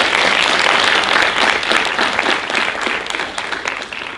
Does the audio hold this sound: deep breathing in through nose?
no